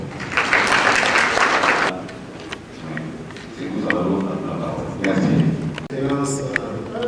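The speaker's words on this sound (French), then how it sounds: "je voudrais vous demander de bien pouvoir applaudir pour nous d'abord" An audience at a workers' health office's 30th anniversary event bursts into loud, dense applause for about two seconds, which then cuts off. Scattered claps and murmuring continue under a man's speech.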